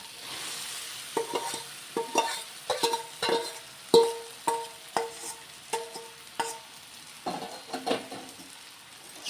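Dal stirred and fried with spices in a pan: a steady run of scraping stir strokes, each a crisp clack over soft sizzling, close and fairly quiet.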